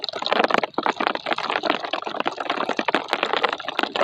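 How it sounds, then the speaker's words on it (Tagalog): Rain falls steadily on a fishing outing, a dense pattering wash with many small, close drops. It keeps going without a break for the whole span, with no talk over it. "Nako po, ulan na po talaga."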